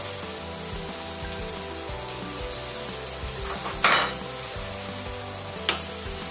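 Vegetables dusted with flour frying in a pan for a rabbit-leg dish, sizzling steadily while a utensil stirs and scrapes, with a couple of sharper clinks against the pan.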